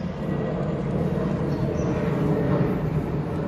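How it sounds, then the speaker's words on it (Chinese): A high-speed train rumbles overhead beside a seaside mangrove park, a steady, broad roar of rail noise that stays even and fairly loud throughout with no voices. "上面就是那个高铁"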